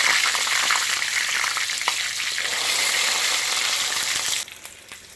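Low-carb chicken tenders sizzle and fry in a pan of hot oil, a steady, loud crackling hiss. It drops off sharply near the end.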